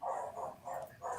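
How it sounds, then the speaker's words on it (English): A pet dog barks behind a closed door inside a home, four short, muffled barks in a steady rhythm, faint and somewhat distant. "And then I heard barking."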